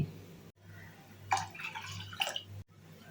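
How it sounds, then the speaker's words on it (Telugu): Water poured into washed rice in a pressure cooker, two cups per cup of rice, in a short splashing burst, then a second brief splash and trickle, close by against a low steady hum. "వాష్ చేసుకున్న బియ్యంలోకి ఒక కప్పు బియ్యానికి 2 కప్పుల నీళ్లు పోసుకోవాలి."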